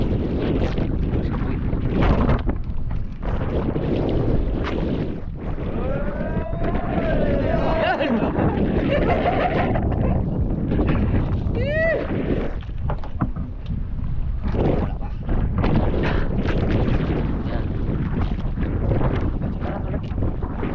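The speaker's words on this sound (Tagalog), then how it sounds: "Lakas ng hangin." Strong wind buffets the microphone in a constant roar, with water sloshing and voices talking now and then underneath.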